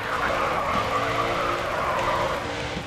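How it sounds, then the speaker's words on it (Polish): A car drifts in the racing game GRID 2, its tires squealing in a long, unbroken skid over a droning engine, loud and close throughout. "Pierwszy drift się udał. Doskonały drift."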